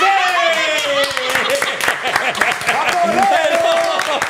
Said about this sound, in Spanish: Aquí estamos aplaudiendo por todo.